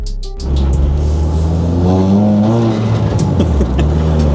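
A cammed SR20 engine in a Nissan Almera GTi out on the road, loud and close, rising in pitch as it accelerates through the revs, then dropping back before pulling again.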